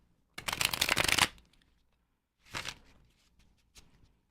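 Tarot cards are shuffled close up: one long riffling burst, then two shorter softer shuffles after a pause, crisp against near silence.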